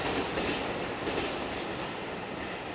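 Trains pass through a rail setting in Japan, a steady, loud rumble of rolling wagons with faint clickety-clack from the wheels, sustained throughout with no talk.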